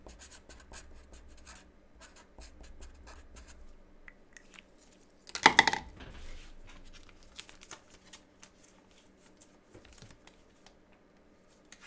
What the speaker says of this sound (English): I have to write that down.